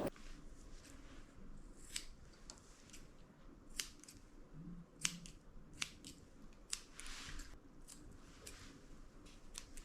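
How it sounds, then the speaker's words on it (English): Slightly curved grooming scissors trim the hair across the front of a Havanese dog's eyes, making faint, crisp, irregular snips against a quiet room. "I'm using my slightly curved scissors to trim right across the front of her eyes."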